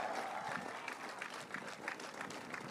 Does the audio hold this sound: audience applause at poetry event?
yes